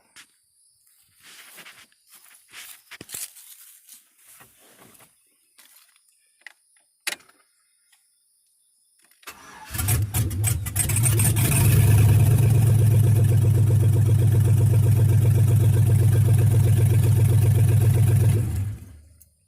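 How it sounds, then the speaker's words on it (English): A Jeep Grand Wagoneer fitted with a swapped-in LS V8 cranks briefly and then fires, settling into a loud, steady idle that runs close by after a stretch of scattered quiet handling noises. "So now let's see if it'll crank up."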